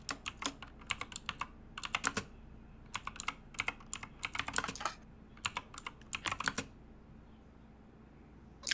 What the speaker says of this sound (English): Clunk of a keyboard.